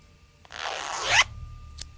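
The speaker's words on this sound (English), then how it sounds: "The zipper on this cushion's..." A zipper on a cushion in the Tex Murphy Tesla Effect video game is pulled open in one smooth, close rasping stroke lasting under a second, followed by a brief click.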